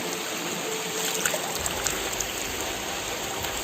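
River water flows in a soft, continuous rush with faint trickling detail. It is steady and moderately quiet throughout, with no voices.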